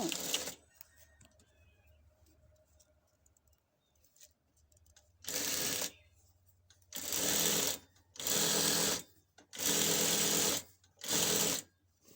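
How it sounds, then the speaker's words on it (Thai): Sewing machine stitching a trouser leg seam in fabric, running in five loud, steady bursts of a few seconds each, separated by short pauses, after a quiet stretch at the start. "เราจะเย็บฝั่งนี้ปื้ด มาถึงปลายขาฝั่งนี้นะ"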